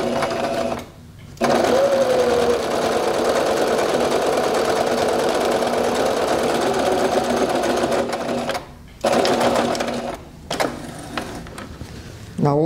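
A domestic sewing machine stitches a fabric toilet lid cover in a steady, loud mechanical whir that runs for long stretches. It is broken by a few short pauses and restarts, including the back-and-forth of reverse stitching.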